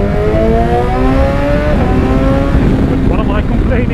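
A BMW S1000XR motorcycle with an Akrapovic exhaust revs loudly up close, its engine note climbing and dropping in smooth sweeps while a rider talks over it.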